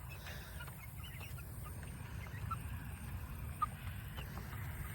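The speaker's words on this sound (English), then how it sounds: "I fed the chickens." Soft, scattered clucking from chickens over a steady low rumble of background noise, with one brief sharper call near the end.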